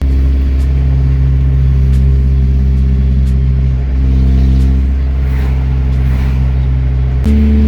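A Honda Accord with an H23A engine idling loudly then revving up and settling, a deep steady rumble with a raspy, unmuffled exhaust tone, close by.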